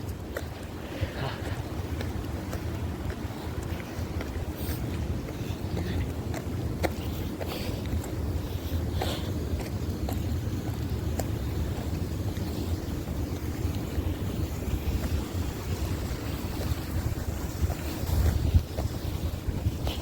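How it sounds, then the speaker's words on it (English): Wind and pouring rain on a New York City street on a cold spring day, a steady broadband roar with gusting wind buffeting the microphone throughout. "Now today it's pouring cold and windy."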